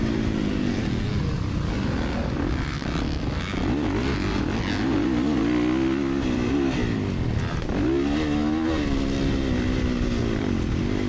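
A Kawasaki KX450 dirt bike at motocross practice revs hard and continuously, its engine note rising and falling as it shifts through the gears. The close, loud motor carries through the whole clip with no talking.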